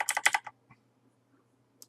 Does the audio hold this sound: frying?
no